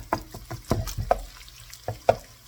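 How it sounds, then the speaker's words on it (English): Browned ground pork is stirred and crumbled with a utensil in a pan, giving a series of sharp scraping taps and clicks at an irregular rhythm over a soft sizzle. "Give it one more crumble through, break it up as much as I can."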